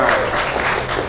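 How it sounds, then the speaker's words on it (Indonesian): An audience at an Indonesian district gathering applauds in a brief, loud burst of dense clapping that fills the whole moment without any speech. "Itu semua tepuk tangan."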